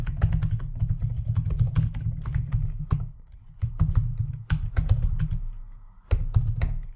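Rapid typing on a computer keyboard, close and steady, with dense key clicks in bursts separated by brief pauses.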